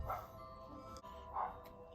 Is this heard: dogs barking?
yes